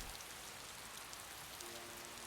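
Steady rain falls and patters on surfaces as an even, continuous hiss, soft and diffuse throughout with no voices.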